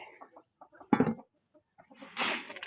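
Mixed roosters and hens at a feeding spot cluck in short, close bursts, with one louder squawk and a scattered run of calls between quiet gaps.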